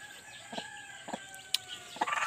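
A chicken clucks in cold weather with short, repeated, nasal clucks at a steady pace, fairly close and moderately loud against a faint background hum.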